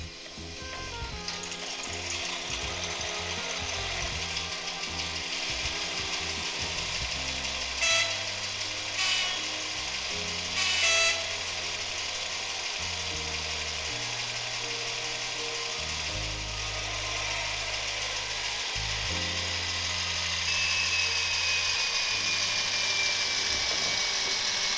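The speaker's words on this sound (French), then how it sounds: "Mise en route du moteur." A Jouef model train BB locomotive, converted to digital control, runs with a whirring electric motor hum that shifts in pitch in steps, with brief metallic clicks and a rising whine later on.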